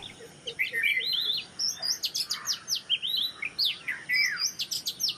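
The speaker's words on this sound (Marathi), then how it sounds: "पावसामुळे या सुंदर पक्ष्यांना अगदी जवळून अनुभवता आले." Small birds call from close by at a window, a busy run of quick high chirps and twittering phrases that repeat over a faint steady background. No voices are heard.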